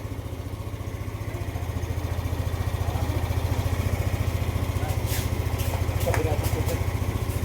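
A Yamaha Aerox 154 scooter engine idles close by with a fast, steady low putter that swells slightly and keeps an even pulse, while people talk briefly over it near the end.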